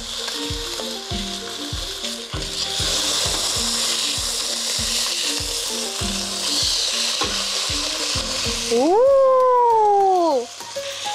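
Thick-cut pork chop frying in a pan with Hakka pickled mustard greens, a steady close sizzle under rhythmic tonal music, with a rising whistle-like tone near the end.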